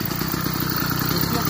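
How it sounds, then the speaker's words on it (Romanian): An 80cc engine on a motorized bicycle runs close by with a steady, rapid putter of firing pulses. The note holds even and loud throughout the brief stretch. "Când asta e bicicletă cu motor."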